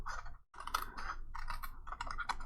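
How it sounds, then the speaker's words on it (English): Scissors cut by hand through a trimmed piece of craft material in a series of quick, crisp snips with a brief pause early on. The cutting is close and clear, with no talking. "I'm just going to use my scissors."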